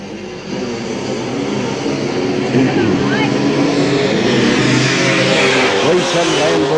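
Racing motorbikes at the 1984 King of the Hunter race, a steady loud engine roar with rising and falling revs as riders pass, under continuous race commentary.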